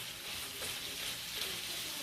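Aromatics fry and are stirred in a pan, giving a steady, fairly soft sizzling hiss throughout a short stretch with no speech.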